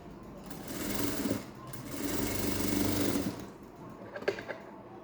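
A sewing machine stitches the lining of a princess cut blouse in two close bursts of rapid, even whirring separated by a short pause, followed by a few faint clicks.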